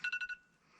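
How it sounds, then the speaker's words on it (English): An alarm beeps four times in quick succession, with sharp electronic tones. Faint background noise follows once the beeps stop. "Oh, there's the alarm. I need to turn it off."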